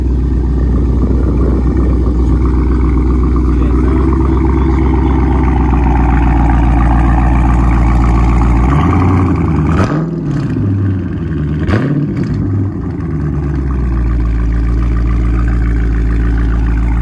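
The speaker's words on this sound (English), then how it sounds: "I got the 5-inch exhaust tips on mine, and then I'm gonna rev it up and you're gonna see how it sounds." Dodge Charger Scat Pack with 5-inch exhaust tips and a mid-muffler delete, idling in a loud, deep rumble close by, then blipped through several sharp revs near the end before settling back to idle.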